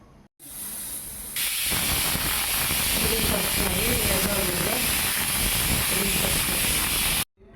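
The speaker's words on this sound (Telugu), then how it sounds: "ఇప్పుడు కుక్కర్ మూత తీసేయాలి. వావ్, ఎంత పొగలు వస్తుంది చూడండి." A pressure cooker of freshly cooked tomato rice vents steam in a loud, sharp hiss that bursts on after a moment and blasts steadily for about six seconds before cutting off.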